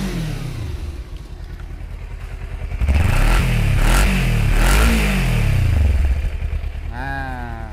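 Royal Enfield Himalayan 400cc motorcycle engine running close by, steady idle chugging that swells into a louder, rougher stretch of revving before settling back, with some mechanical clatter.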